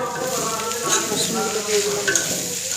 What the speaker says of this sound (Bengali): রসুনগুলো রেডি হয়ে গেছে এই পর্যায়ে দিয়ে দেবো মাশরুম